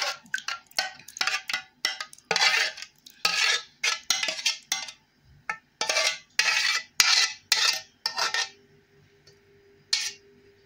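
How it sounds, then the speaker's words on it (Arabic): A spoon stirs a tomato stuffing mix for mahshi in a metal pan, giving bursts of clinking and scraping in uneven repeated strokes with short pauses, close and clear. "هقلب بقى المكونات كلها كده مع بعض"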